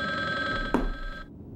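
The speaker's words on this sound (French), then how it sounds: "Téléphone." A telephone rings in the video game Resident Evil, a steady electronic bell tone that sounds briefly, is broken by a short thump and then cuts off.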